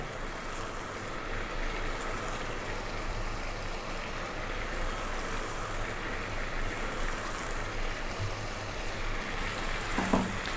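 Tomatoes cook down in a pan on a stovetop, giving a steady, close, even sizzle and crackle that keeps going with no pauses.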